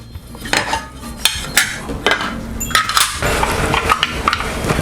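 Waffle maker plates being washed before cooking, with repeated clinks and clatters of metal plates and dishware knocking together at close range, alongside running water and scrubbing noise, with no one speaking.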